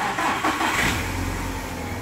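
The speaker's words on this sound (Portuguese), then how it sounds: "Vou funcionar o carro." A Fiat Palio with a 1.6 16V E.torQ engine starts, a brief cranking whir catching into a steady, close idle that holds to the end.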